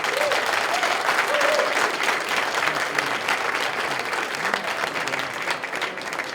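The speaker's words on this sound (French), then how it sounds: "Applaudissez-vous un peu." Sustained audience applause fills a hall at a youth investiture ceremony for the COJEP national executive bureau in Côte d'Ivoire, a dense, steady wash of many hands clapping at even loudness throughout, with no voices standing out.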